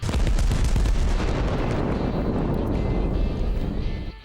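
A destructible tower blown up in the video game Arma Reforger, a loud deep explosive blast that rumbles and slowly fades over a few seconds.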